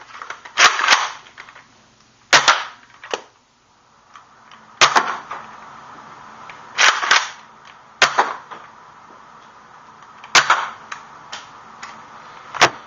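A Roughcut dart blaster fires darts in bursts of two or three sharp, close pops. The bursts come every couple of seconds with faint clicks between them, and no one speaks.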